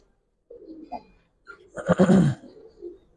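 Pigeons of a fine pedigree line, a female and a male, give short throaty coos close by, one brief call early and a fuller burst near the middle, with quiet pauses between.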